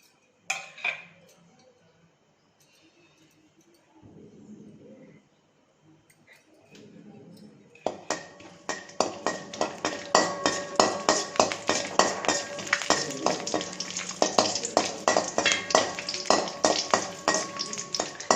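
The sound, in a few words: cinnamon, star anise and cloves frying in a pan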